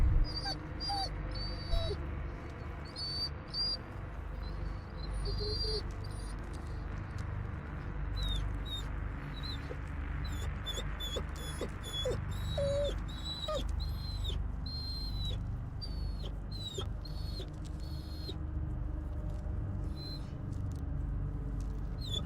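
A dog in the video game Blair Witch whimpers and yelps in repeated short, high-pitched cries while being dragged, the whines coming in bursts over a low rumbling background.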